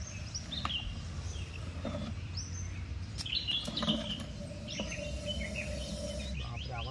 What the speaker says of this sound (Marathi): जिकडे साप सोडायला तिकडे खूप साऱ्या पक्ष्यांचा किलबिलाट चालू आहे.